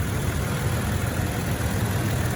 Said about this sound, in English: That one's got the V6 engine in it.